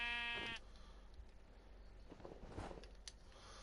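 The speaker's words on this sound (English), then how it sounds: "No, don't hit my sheep." A sheep in a PS4 video game gives a single clear, nasal bleat at the start, followed by quiet game background noise.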